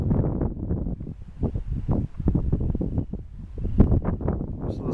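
Strong wind gusts buffet the microphone in the open African bush where a cheetah stalks a springbok, a loud continuous rumbling roar that surges and dips without pause.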